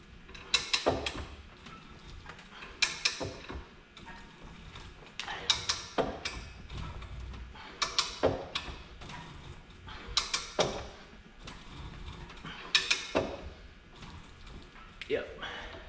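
Harbor Freight ratchet pipe threader cutting threads on pipe, a repeated creaking ratchet stroke roughly every two and a half seconds with metallic clicks, close and fairly loud over a steady low background.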